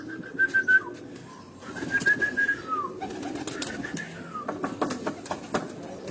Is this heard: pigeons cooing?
yes